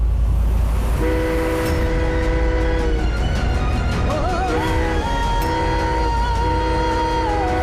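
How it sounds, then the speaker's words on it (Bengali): A train approaches with a loud continuous rumble of wheels on rails, and its horn blares in several long sustained blasts that waver in pitch, close and dominating. "ট্রেন এসে যাবে"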